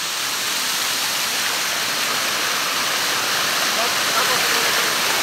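Water pours down Banti Falls in a constant, full-bodied rushing roar, a steady hiss of falling water close by with no breaks.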